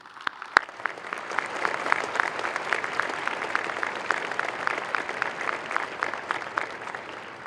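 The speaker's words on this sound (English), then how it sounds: "please at this time let's give our dignitaries a round of applause" Audience at a December Northern Michigan University midyear commencement ceremony claps steadily for the dignitaries on stage, a sustained wash of dense applause from a large crowd with a few sharper nearby claps.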